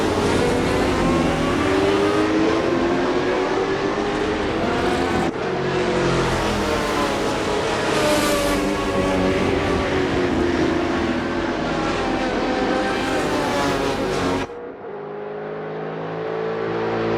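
V8 Supercar racing engines roar at full throttle, loud and close, with rising and falling revs across several gear changes, a sharp cut near the end, then a lower rumble.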